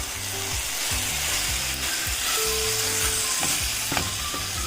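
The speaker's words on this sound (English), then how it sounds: "I have added the chicken mince, which is 300 grams in weight, and just give it a quick mix. Stir it nicely." Chicken mince frying in a pan, a steady close sizzle with repeated scraping knocks of a spoon stirring through it.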